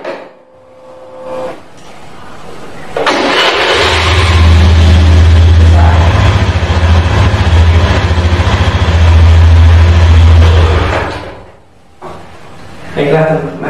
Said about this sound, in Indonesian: kita buktikan setelah kita reset, mesin ini nyala apa enggak?